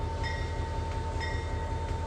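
A train starts to move in the Trainz 2022 railway simulator game on a Midwestern line, a steady loud rumble and hum of locomotive machinery with faint rhythmic clicks.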